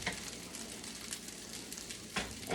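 Eggs frying in a pan for chicken fried rice: steady soft sizzle and crackle throughout, with a brief louder spitting burst near the end.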